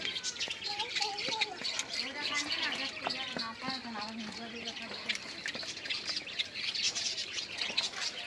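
Australian doves in a dove farm, soft cooing and chirps mixed with other bird calls and wing flaps against a steady background hum, with someone talking over them.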